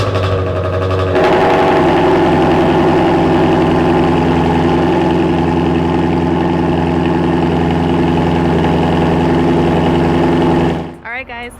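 Ford Shelby GT350 V8 engine cold starting, a sudden loud crank and catch into a deep, steady high idle that rumbles close and unbroken for about ten seconds before cutting off.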